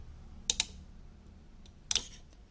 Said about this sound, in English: Hear that clicking sound?